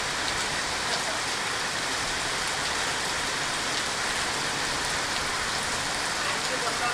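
Heavy rain pours down in Bainda, a dense, unbroken wash of hissing and pattering that stays loud and even throughout.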